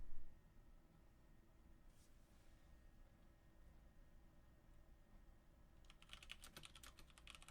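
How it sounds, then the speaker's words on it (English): Quick, light key clicks on a computer keyboard come in a dense burst near the end after a quiet stretch with steady low background hum. There is no talking. "sorry, just typing to my opponent"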